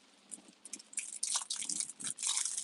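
Close, crisp crunching as someone bites and chews a protein bar during a pouring downpour, with several uneven bites and no talking.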